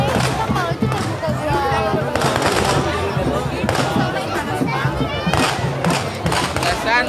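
Firecrackers go off amid a dense crowd at an ondel-ondel gathering at Monas, Jakarta, with several sharp bursts standing out over continuous crowd chatter and nearby voices.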